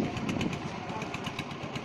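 A motorcycle engine idles nearby with a steady, slightly lumpy rumble, the only sound through the short stretch.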